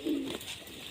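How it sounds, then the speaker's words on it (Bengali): A male pigeon gives a single short, low coo, brief and fairly quiet, with nothing else around it. "আর একটা নর পায়রা আছে"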